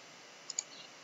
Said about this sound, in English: You can open up the path of the file by clicking on the file and clicking on Open File